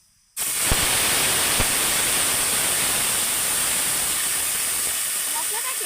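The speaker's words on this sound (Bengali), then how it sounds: "এবার আমি যে মশলাটা মিক্সিতে পেস্ট করে রেখেছিলাম সেই মশলাটা তেলের মধ্যে দিয়ে দেবো" Spice paste dropped into hot oil with a bay leaf and whole cumin, sizzling loudly and steadily after a sudden start, a broad continuous hiss with a few sharp pops early on, with faint voices underneath.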